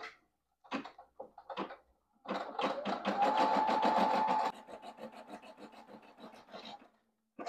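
Brother PE535 embroidery machine stitching an iron-on patch, a rapid mechanical needle chatter that runs loud for a couple of seconds and then continues more softly, with a faint steady whine and a few scattered clicks before it starts.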